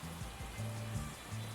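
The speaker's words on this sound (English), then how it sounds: "Even our voices are difficult to hear due to the rain." Rain falls in the video game Maitetsu as a soft, steady patter and hiss, quiet and continuous beneath a simple, low stepping melody.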